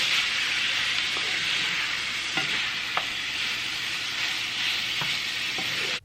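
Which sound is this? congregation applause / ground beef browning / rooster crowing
ground beef browning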